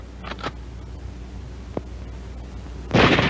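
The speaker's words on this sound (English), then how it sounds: "A manually operated weapon will fire each time the bolt is operated and the trigger is squeezed." A manually operated bolt-action weapon: a few sharp metallic clicks of the action, then one loud, close gunshot that bursts out near the end.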